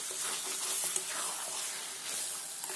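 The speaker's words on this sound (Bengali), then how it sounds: "এবার মাংসটাকে দিয়ে দিলাম, কাঁচা মাংসটাকে দিয়ে দিলাম মশলার মধ্যে" Raw chicken sizzling in a spiced masala while being stirred for chicken kosa, a steady bright hiss of frying with faint scraping throughout and no voices.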